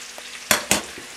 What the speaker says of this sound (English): Now we give it a stir. We throw the garlic in, some ginger,